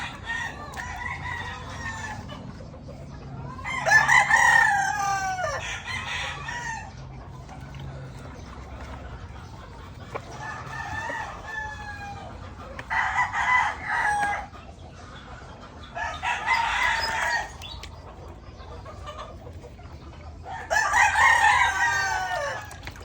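Several roosters crow in repeated bursts among chickens on a farm where the birds are being bathed, each call rising and falling with pauses between, fairly close, with faint talk now and then.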